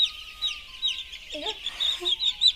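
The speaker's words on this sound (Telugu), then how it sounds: "మేమైతే వీడికి చిన్న కోడి పిల్లలు అయితే చూద్దామని వచ్చినాం" Small chicks cheep in a dense chorus of repeated high peeps, with a few nearby clucks from chickens and faint talk in the background.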